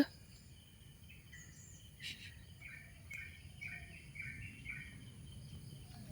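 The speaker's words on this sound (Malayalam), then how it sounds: "കിളികൾ" Faint, scattered bird chirps sound at a distance over a steady low background hum, with a few sharper tweets mixed in.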